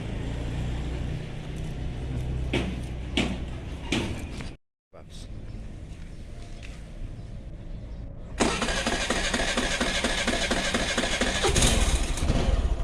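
A Suzuki Burgman scooter engine with a hard-starting problem cranks and catches, then runs with a steady, rattling idle that grows louder, with people talking nearby.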